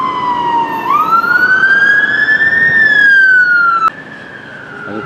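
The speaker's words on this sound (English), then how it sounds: "I waited until that fire engine had gone by." Fire engine siren wailing past on a street beside the River Ness in Inverness, loud and close, its tone rising and falling and then dropping in pitch as the truck moves away.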